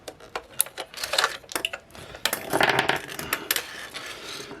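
Small plastic battery cover and batteries clicking, rattling and scraping as they are pried out of a cheap £30 Wish camera, a run of close, sharp taps and clatters with no talking.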